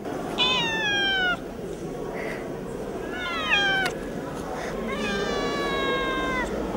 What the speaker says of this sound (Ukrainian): Учасники виставки коти, кішечки і кошенята залюбки позують перед камерою.